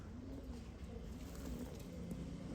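Pigeons coo softly and steadily in a loft of white and spotted pigeons, a low continuous murmur over faint background hiss with no clear pauses.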